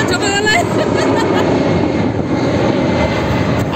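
An airplane passes low over a home near an airport, a loud, continuous close roar of engine noise that fills the whole stretch, with voices mixed in beneath it.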